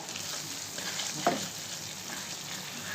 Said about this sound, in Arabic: دابا هاز علوك كيتقلى ياك ياسين.